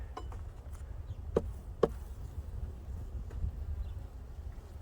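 Honeybees hum softly around opened frames during a hive inspection after a cutout, a low steady drone with a couple of brief knocks of frames or tools, with no voices.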